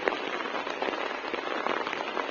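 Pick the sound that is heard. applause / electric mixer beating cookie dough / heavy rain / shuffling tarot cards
heavy rain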